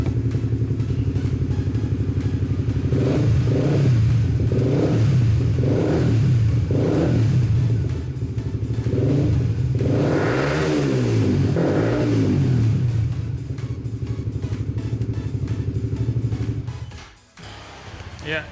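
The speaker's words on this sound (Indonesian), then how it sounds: "Ini bakal gua coba geber-geber mungkin." A Suzuki GSX-R150 motorcycle with a Taiwanese Magna Akrapovic-replica exhaust, about five meters away, idles with a steady rumble, then takes a series of sharp throttle blips and a longer rising rev before settling back and dropping off near the end.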